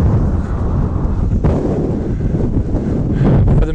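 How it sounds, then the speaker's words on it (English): Strong wind buffeting a microphone outdoors, a loud continuous low rumble with gusty surges throughout, no talk audible over it. "sorry about this wind"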